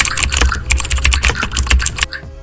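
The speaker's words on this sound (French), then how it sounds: "télécharger un son qui fait un peu style clavier, une qui tape sur un clavier" Rapid keyboard typing sound effect, a dense run of crisp key clicks at close range that stops just before the end.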